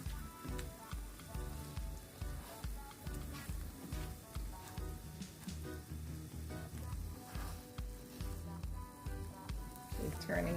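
Scrambled eggs sizzle in a pan, a soft, continuous crackle running beneath a rhythmic musical backing throughout.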